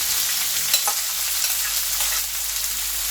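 Sliced onions and green chillies frying in a pan, a continuous close hiss and crackle of sizzling oil with a few light stirring scrapes.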